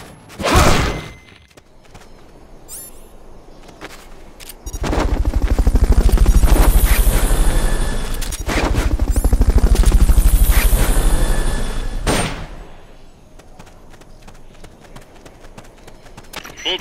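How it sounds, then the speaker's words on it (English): Fulton recovery helicopter in Metal Gear Solid Peace Walker: a loud rotor thrum swells in the middle of the clip and holds for several seconds, framed by sharp thuds and game sound effects. "Fulton recovery helicopter is complete."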